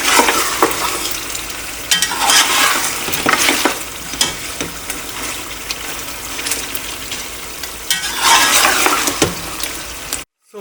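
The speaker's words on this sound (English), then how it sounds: "We are roasting it in the ghee." Beef kabuli pulao roasts in hot ghee with a loud crackling sizzle, broken by repeated stirring scrapes that swell and fade in bursts.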